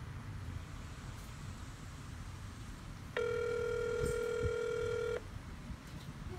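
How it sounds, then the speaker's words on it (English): A phone places a call to a Buffalo Wild Wings restaurant: a steady ringback tone sounds for about two seconds, clear and close, over faint road traffic, with no talking. "Call Buffalo Wild Wings real quick"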